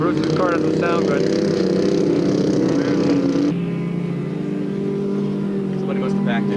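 A loud ice-racing car engine roars continuously nearby, its pitch shifting as it revs, with a voice talking over it.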